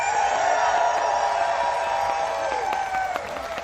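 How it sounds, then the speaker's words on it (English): A huge crowd at a rally in the nation's capital cheers and applauds, a dense continuous roar with scattered whoops and claps at steady loudness throughout. "Take a look at this huge crowd right here in our nation's capital."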